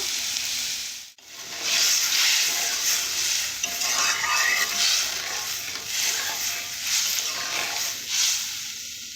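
Food for banana fritters is stir-fried in a pan, giving a loud, continuous hissing sizzle broken by a brief pause near the start, with rhythmic scraping of the spoon throughout and no voices.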